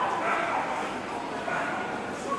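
A Rottweiler barks at a dog show amid a busy, crowded hall, with people talking over the dog throughout.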